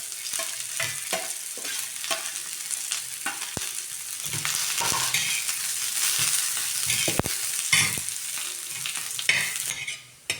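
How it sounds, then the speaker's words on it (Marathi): Thinly sliced onion dry-roasts in a pan after grated coconut. A soft, crackling sizzle mixes with repeated close scraping stirs, and no one speaks. "असा कांदा भाजून घ्यायचा"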